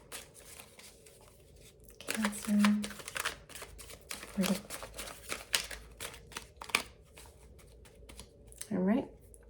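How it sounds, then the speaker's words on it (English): Tarot cards shuffled by hand in a series of soft, crisp riffling bursts at close range. A voice speaks between and over the shuffles. "We're going to shuffle twice and take the first one off the top."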